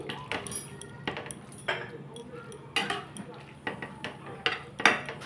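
Softened butter being stirred into a white sauce in a pan: repeated light clinks and scrapes of a spoon against the pan in an uneven rhythm, fairly quiet, with a low background hum.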